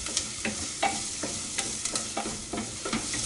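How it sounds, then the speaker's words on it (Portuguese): Onion browning in a pan for a meat ragu, sizzling softly and steadily while a utensil stirs it with a run of quick, sharp scrapes and taps, close by and free of speech. "Enquanto isso, a nossa cebola tá dourando aqui, a nossa cebola."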